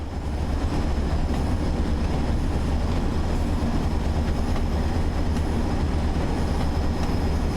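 A train runs on the rail line toward Manchester, a steady loud rumble of wheels and carriages rolling past with faint rhythmic clicks throughout.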